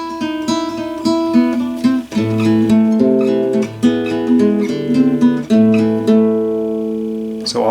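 Classical fingerstyle guitar plays the second part of Für Elise alone, a steady run of clear plucked notes and chords that rings out loudly and evenly before one final note fades.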